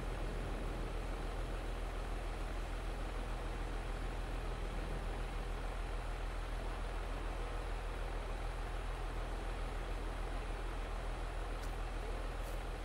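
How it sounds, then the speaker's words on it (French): A farm tractor engine idles steadily at close range, a continuous low rumble that stays even and unbroken throughout, with no talk over it. "Le tracteur."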